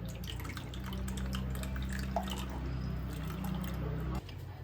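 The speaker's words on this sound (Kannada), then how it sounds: "ಇನ್ನೊಂದು ಸ್ವಲ್ಪ ಈ ಥರ ಹಿಂಗೆ ತಣ್ಣು ನೀರು ಹಾಕ್ಕೊಂಡು ಇನ್ನೊಂದ್ಸಲ ಜಾನ್ಸ್ಕೊಡಿ ಚಲೋ." Water trickles and drips steadily over a low hum, a continuous light pouring sound that stops abruptly near the end.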